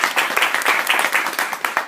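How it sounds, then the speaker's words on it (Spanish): Brief, lively applause from an audience welcoming an author to a novel presentation, close and fairly loud, with rapid overlapping claps. "Sí me gustaría que la recibiésemos con un fuerte aplauso."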